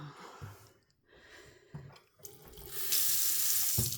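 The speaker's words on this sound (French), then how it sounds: "À signaler qu'il n'y a que de l'eau froide à ce robinet." A tap runs cold water into a kitchen sink in a guesthouse, splashing in short bursts before flowing loudly and steadily close by, with no talking.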